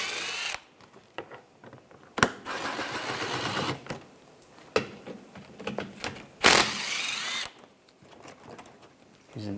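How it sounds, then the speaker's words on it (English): Bolts removed from the front lower grille of a 2013-2016 Dodge Dart with a 10 millimeter socket, bursts of whirring tool noise and ratcheting alternating with metallic clicks and quieter gaps, close by, with brief talk. "I'm using a 10 millimeter socket. Take these bolts out."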